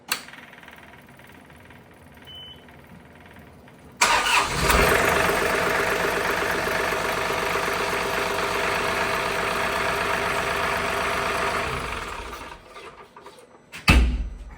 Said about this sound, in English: as soon as I start running the tractor